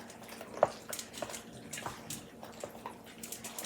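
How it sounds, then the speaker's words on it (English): Penne pasta being stirred with sauce in a pot gives soft, wet sloshing and squelching with a brief clink near the start, continuing close up at moderate level with no talk. "I'm just gonna add all of that sauce in there. Gonna give it a stir."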